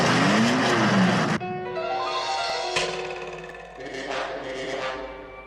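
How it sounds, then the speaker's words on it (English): A Lotus Formula 3 race car in a 1967 film soundtrack whines loudly through shifting engine tones, with a brief tire squeal and engine notes that rise and fall as the car races past. "I am faster in my Lotus Formula 3"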